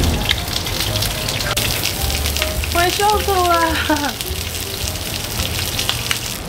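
Chicken pan-frying skin-side down for teriyaki, a steady sizzle and crackle running throughout, with a brief spoken phrase and a short stretch of music over it.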